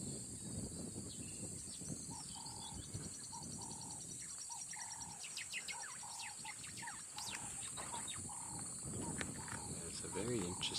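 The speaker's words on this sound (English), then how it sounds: "There's a very interesting bird call coming from this bush." Repeated tonal bird calls ring from a bush in the African bush near a dam, a rhythmic series of short notes over dense insect and frog chorus, with other birds chirping around.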